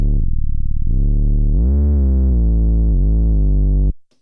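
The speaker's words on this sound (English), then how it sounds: "it's just a real beefy sounding bass" A loud, thick synth bass plays a few sustained notes with a low growl, sliding between pitches before cutting off abruptly.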